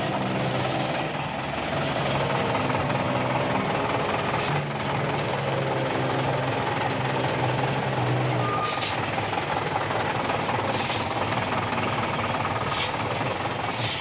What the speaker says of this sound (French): Pourtant, quand il lance son moteur, Mou n'emmène pas large.